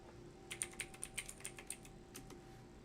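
Quick, light clicks of typing on a computer keyboard at a home lab desk, a short burst of about a dozen keystrokes, faint and close, with a steady electrical hum underneath and no talking.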